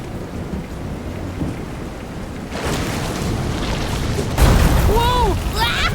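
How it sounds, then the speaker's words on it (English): Heavy rainstorm with rolling thunder in the video game Visions of Mana, a steady roar of rain that swells louder midway and again near the end, with a thunder boom and some high tonal effects on top. "This is some storm."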